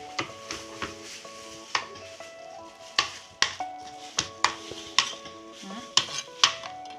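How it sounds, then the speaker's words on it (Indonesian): Cooked chicken meat being minced for baby food, sharp knife strikes against a board landing in an irregular, close rhythm, with ringing metallic clinks between cuts and no talking. "Ini aku cincang kayak gini."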